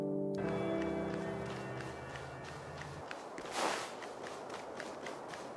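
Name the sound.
barefoot footstep sound effect of Clara in video game Honkai Star Rail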